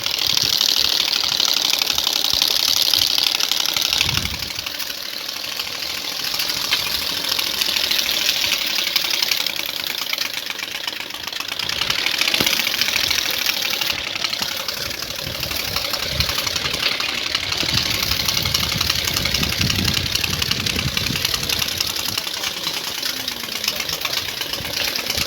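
A motorcycle fitted with a modified Nobeta exhaust runs loud and close, its engine note rumbling and rising in sustained revs with a rough, throbbing texture for the whole stretch.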